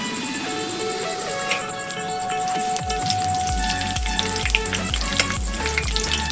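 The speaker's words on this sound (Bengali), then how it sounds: "আমি এবার দুটো শুকনো লঙ্কা ফোড়নে দিয়ে দেব একটু পাঁচ ফোড়ন দেব আর দুটো তেজপাতা ছিঁড়ে দিয়ে দেবো" Dried red chillies, panch phoron and bay leaves sizzle and crackle steadily in hot oil, with a constant frying hiss and occasional louder pops and clinks.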